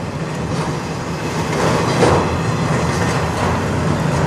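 CN 122, an intermodal and autorack freight train, passes through a blizzard at Sarnia, Ontario, giving a steady close roar of rolling cars and wheel rumble that swells slightly partway through, with no talk.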